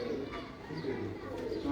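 Breeder pigeons coo softly in a loft, low murmuring calls under people talking nearby.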